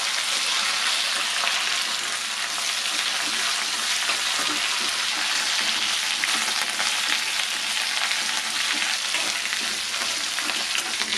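Curry leaves frying in hot oil for a chutney, a steady loud hissing sizzle that holds evenly throughout with no talking.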